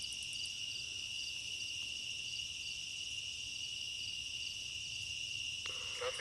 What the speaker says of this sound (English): just a lot of cricket sounds and everything around me